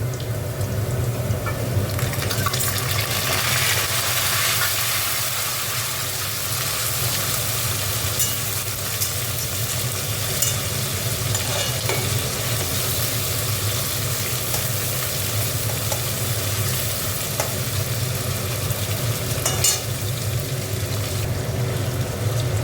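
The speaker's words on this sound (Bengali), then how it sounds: "দেখো এবার মাছের তেলটা দিয়ে দিচ্ছি।" Fish oil sizzles steadily in a pan while chachra, a Bengali fish-and-vegetable dish with stems, cooks, a continuous broad frying hiss with faint clinks and no talk.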